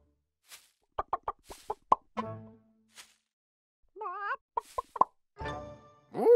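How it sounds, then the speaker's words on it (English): Chicken sounds: a scatter of short, sharp plopping clucks in quick bursts, with a couple of brief tonal calls between them, all separated by silence. "That chicken is behaving very strangely."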